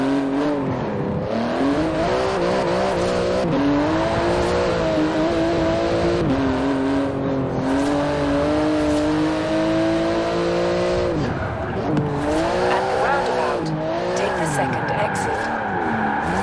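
A 700-horsepower rear-wheel-drive Porsche GT2 RS racing in Forza Horizon 4, engine revving up and down through gears with tire squeal, loud and continuous while a person talks over it.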